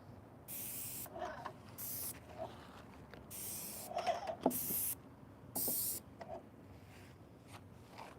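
Short bursts of spray from a can lay light coats of finish onto a desk, several hissing pulses of about a second each separated by pauses, with faint handling clicks between, close and fairly quiet.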